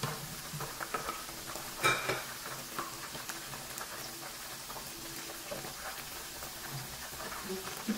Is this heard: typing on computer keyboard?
no